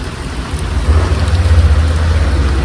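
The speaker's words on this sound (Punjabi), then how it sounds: "ਰਾਤ ਭਰਾਤ 4:30 ਵਜੇ ਮੀਂਹ ਦੁਆਰਾ ਪੈਣਾ ਸ਼ੁਰੂ ਹੋ ਗਿਆ ਬਰਸਾਤ ਜਿਹੜੀ ਹੈ ਤੇਜ਼ ਹੋ ਗਈ" Loud, heavy rainfall with thunder: an unbroken close roar of rain on surfaces over a deep, pulsing low rumble, with no voices.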